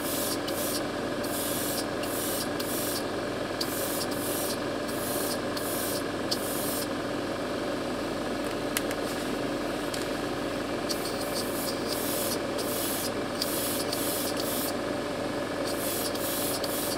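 An aerosol can sprays coating onto a Yamaha YZF R1M motorcycle part in a long series of close hissing bursts, each lasting about a second with short gaps, over a steady background hum.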